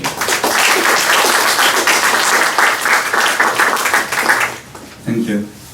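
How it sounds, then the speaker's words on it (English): Audience applause at a tech conference on AI, Go and self-driving cars, as the guest speaker is welcomed: dense, steady clapping from a large room for about four and a half seconds, then cut off as a voice begins. "So please give him a warm applause."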